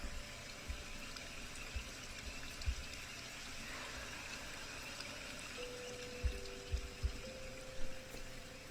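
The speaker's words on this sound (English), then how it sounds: "Today I chose the sound of water." Faint, steady flowing water gives a soft continuous wash under a low constant hum, with a few small soft knocks scattered near the end.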